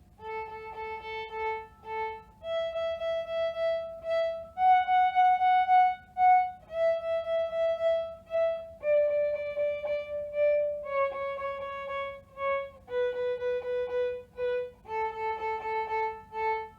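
A bowed string instrument plays Twinkle Twinkle Little Star in the short-short-long pepperoni pizza rhythm, with repeated clipped notes on each pitch, close-up and solo with no voices.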